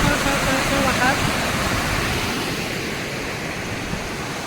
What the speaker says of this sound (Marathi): आपल्या शेताशेजारून वाहणारा जो ओढा आहे ना, तो इकडून वरून येतो